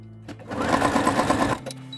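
A sewing machine stitching fabric scraps together for a quilt block, giving a loud close mechanical whir that runs for about a second before stopping abruptly, no talking.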